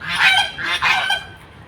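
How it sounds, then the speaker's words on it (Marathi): Ducks at a lake give loud, close, raspy honking quacks in a few overlapping bursts that fade toward the end, with no talking. "बदक आहेत बदक."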